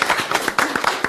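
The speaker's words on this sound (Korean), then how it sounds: "박수 한번 좀 쳐." Audience at a provincial governor's public forum giving a brief round of clapping, a quick burst of individual claps of moderate loudness.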